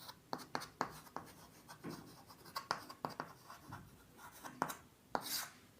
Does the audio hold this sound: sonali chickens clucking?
no